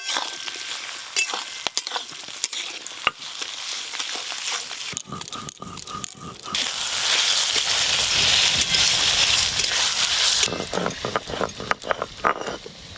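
Onion, ginger and garlic paste fries in a pan, a close, steady sizzle and crackle with occasional stirring scrapes and clinks that grows louder and denser partway through, with no speech.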